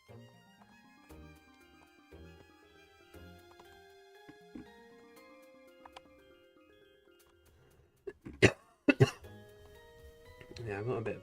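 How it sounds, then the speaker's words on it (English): A person coughs in a short burst of several harsh coughs near the end, following a stretch of soft pencil-scratchy background and faint tones while drawing. "Yeah, I've got a bit of a cough today."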